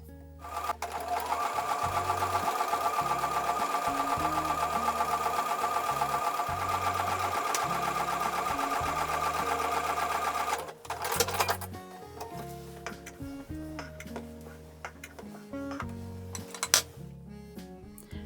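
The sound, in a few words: sewing machine sewing a quarter inch seam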